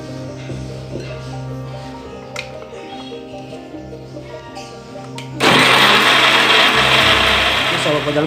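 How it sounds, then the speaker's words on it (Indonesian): A kitchen blender starts abruptly and runs loud and steady, blending bird's eye chili peppers with half a glass of water; a lower motor hum precedes it. "ini dia sudah kita blender ya, cabai rawit dengan setengah gelas air"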